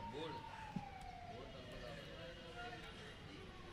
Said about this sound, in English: Hearing sound of the siren